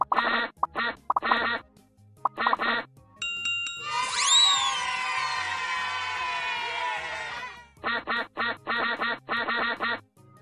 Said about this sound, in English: All the ducks have escaped!